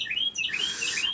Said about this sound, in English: I don't know where that little bird is, but they're awfully loud.